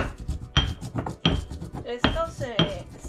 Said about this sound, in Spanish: Estas especies se muelen en el molcajete.